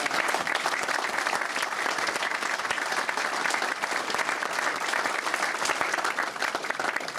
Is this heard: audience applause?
yes